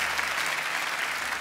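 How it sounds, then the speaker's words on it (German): Brief burst of crowd applause in a television game show studio, a dense, even roar of clapping that holds steady at moderate loudness. "Ja, das ist ein Applaus wert."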